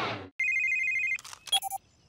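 A cartoon telephone trills with a bright electronic ring tone held for about a second, followed by a few short clattering and beeping effects, loud and close with no talking.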